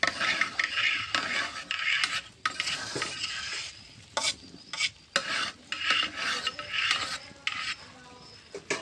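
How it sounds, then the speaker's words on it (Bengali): Rice and lentils for bhuna khichuri being stirred in a pot, giving irregular scraping and rattling strokes with soft sizzling between them. The strokes vary in strength, with several sharp louder scrapes, and no one talks. "খুব ভালো করে নেড়ে দিতে হবে যাতে নিচে লেগে না যায়।"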